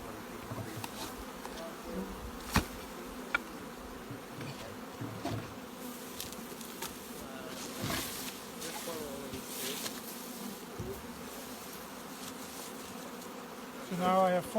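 Honey bees buzzing around a pallet of beehives, a faint continuous hum with individual bees droning close past now and then and a few soft knocks.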